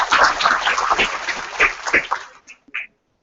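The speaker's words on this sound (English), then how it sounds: "So let's give all of our entrepreneurs a round of applause." An audience applauding entrepreneurs at a demo day event, a loud burst of clapping from many hands that thins out and stops with a few last scattered claps.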